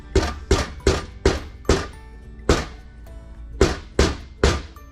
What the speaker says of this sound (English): All right, I'm going to drive this pin in.